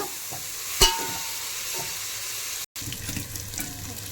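Cabbage frying in a pan for a cabbage fry, a continuous close sizzle with a sharp clink of utensil near the start and a brief cut before the hiss resumes.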